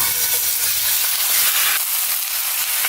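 Chicken pieces fry in hot coconut oil in a pan, giving a loud, steady, dense sizzle that goes on without a break and has no voices over it.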